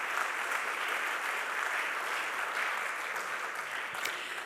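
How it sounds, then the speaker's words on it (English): A Hall of Fame audience applauds steadily for the full length, a dense and even wash of clapping with no voices over it. "Give them a big round of applause."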